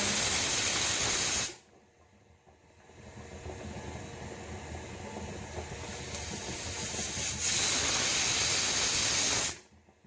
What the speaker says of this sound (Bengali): ওর জন্য প্রেসারে দেওয়া হয়েছে তো তার জন্য সিটি পড়ছে